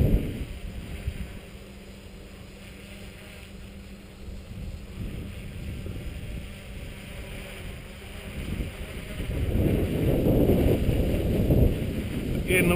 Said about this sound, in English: the wind is really quite strong around here